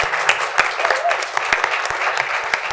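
Audience applause at a school board meeting, a steady patter of clapping from a modest crowd with a few sharper individual claps standing out, lasting the whole stretch.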